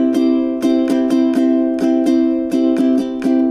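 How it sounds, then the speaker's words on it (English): A ukulele strums an even pattern without accents, about a dozen steady down-and-up strokes on a held chord, close and loud with no talk. "Sometimes you just want to have a strumming pattern that sounds like this."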